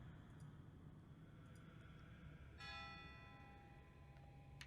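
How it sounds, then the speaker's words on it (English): A single bell rings once, clear and sustained, its tone ringing out and slowly decaying over a low steady background hum. "You hear someone ringing a bell."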